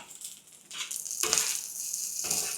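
Yangzhou fried rice with char siu and shrimp sizzles loudly in a wok on a small stove, a bright continuous hiss that surges as the rice is stirred and tossed, with no talk.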